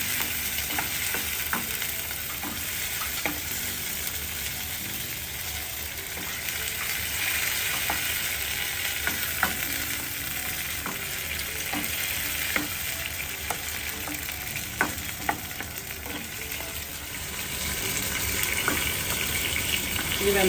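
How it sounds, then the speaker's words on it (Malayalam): Tomato and okra fry in a pan for sambar with a steady, close sizzle, while a spoon scrapes and stirs in irregular clicks and knocks throughout. "ഇനി അതിനകത്തേക്ക് തക്കാളി ഇടണം. നന്നായിട്ട് ഇളക്കി കൊടുക്കണം."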